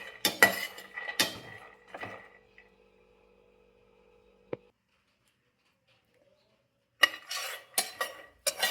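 Peanuts stir-fried in a pan over a low flame, bursts of close rattling and scraping against metal separated by a long quiet gap.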